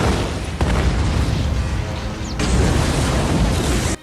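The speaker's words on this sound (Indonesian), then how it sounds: "Maya langsung melepas pin granat dan melemparkannya tepat ke dalam mulut alien" Grenade blast from a film scene with an alien, a loud broadband boom that rolls and rumbles for several seconds, with a second surge of noise midway before cutting off abruptly.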